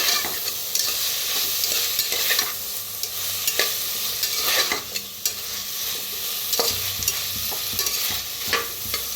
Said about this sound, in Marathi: नवीन बटाटा घेतलेला आहे बघा, त्याला भाजून घेऊया कांद्याबरोबर।